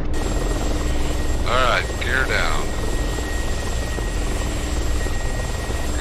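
Steady, loud cockpit drone of an Mi-24 Hind helicopter's engines and rotor in the DCS flight simulator continues throughout, with someone speaking briefly over the engine roar.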